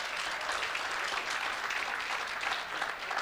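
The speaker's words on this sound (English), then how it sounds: "Give yourselves a round of applause." A room full of guests applauding at a health sciences research day gala dinner and award ceremony, steady massed clapping with no voices over it.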